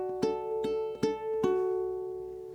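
A ukulele is fingerpicked through the first bar of an etude in 6/8, with a few clear plucked notes ringing into each other at a steady, gentle pace, played alone and close.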